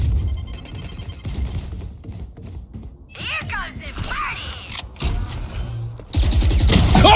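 Gunfire in the video game Valorant, bursts of shots and mechanical weapon sounds mixed with game effects, with a player talking over much of it and heavy, loud bursts near the end.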